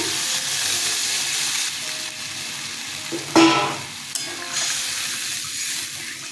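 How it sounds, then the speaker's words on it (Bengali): Water is poured into a pan where katla fish curry spices with mango have been frying, giving a steady close sizzle, a sharp hissing burst as the liquid hits, then a quieter simmering fizz with some stirring. "কষানো হয়ে গেছে, জল দিয়ে দিচ্ছি।"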